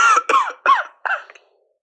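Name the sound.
person coughing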